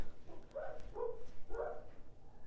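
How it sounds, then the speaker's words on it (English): Several dogs barking in a home sewing room, a few short, muffled barks in a quick cluster, heard somewhat distant and fairly faint. "you can hear my dogs"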